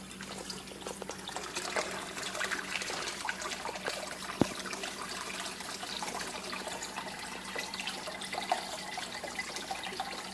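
Water trickles steadily over the sides of an indoor turtle pond biofilter, a continuous soft splashing with a small sharp knock midway and no voices.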